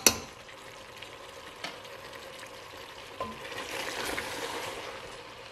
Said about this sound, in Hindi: इसके अंदर हम अपनी ब्लांच की हुई गोभी को डाल देते हैं।